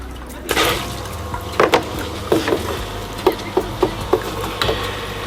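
A newly built 600 by 600 sump pump primes and starts moving water, giving a low running hum with a gurgling, sloshing flow and a series of sharp clacks and drips at uneven intervals.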